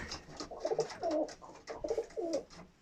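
Pigeons coo in a soft, repeated rhythm, a few low throaty calls close by with quiet background noise.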